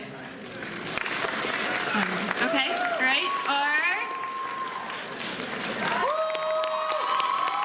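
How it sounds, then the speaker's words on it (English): An intermission crowd claps and cheers to vote for a favourite in a game, with sustained applause under loud, excited talk and shouts from people nearby. "you need to clap for your favorite"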